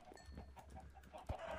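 Video game chickens cluck in soft, scattered bursts against a low, murmuring background, faint and fairly distant.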